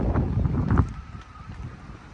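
Gusty wind buffets the microphone aboard the Nao Trinidad, a replica of Magellan's Spanish tall ship docked at St. Augustine. Strong low rumbling surges for the first second, then eases into a softer, fluttering blow.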